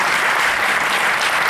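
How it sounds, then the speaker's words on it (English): Steady, dense applause from an audience welcoming Rahul Kapoor Jain at a Jain community session, loud and continuous for the whole stretch with no talking. "Let us send a huge round of applause to Rahul Kapoor Jain"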